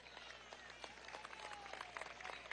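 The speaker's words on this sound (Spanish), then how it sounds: "Para él también vaya un aplauso." Dense applause from a crowd at a political march, steady clapping throughout.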